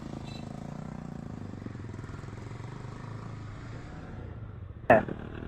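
A motorbike engine drones steadily as it rides along, ending with a sharp knock or bump near the end.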